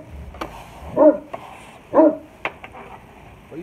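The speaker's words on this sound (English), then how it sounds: "What are you barking at?" A pet dog barks outdoors near a flat-top griddle during breakfast cooking, giving two clear, fairly close barks about a second apart, with a few softer yips and clicks around them.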